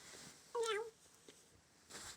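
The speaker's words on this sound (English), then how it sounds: "Oh, and there's a cat." A cat in an indoor basement lets out a single short meow, faint and somewhat distant, amid quiet room noise with a few soft rustles.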